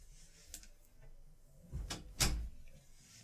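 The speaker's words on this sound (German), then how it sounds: "Hatte die Tür noch offen" A door is pushed shut indoors with a few light knocks and a soft thud followed by a louder closing bump, heard nearby in a quiet room.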